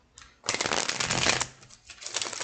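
Cards being shuffled in a rapid riffle, a dense crisp flutter of paper that swells, pauses briefly, then starts again, close up with no talking.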